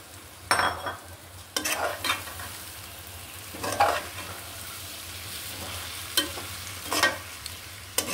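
Cooked rice and chicken frying in a pan, a steady low sizzle under repeated scraping stirs of the spatula, close and fairly quiet, with no voices.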